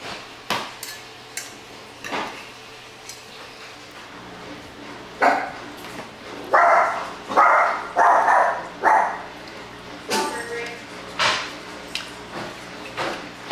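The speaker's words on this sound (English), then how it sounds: "barks at that washer every time" A pet dog barks at a running washing machine in a home, a series of short, loud barks in bursts near the middle, with dish and cutlery clatter and a few thumps around it.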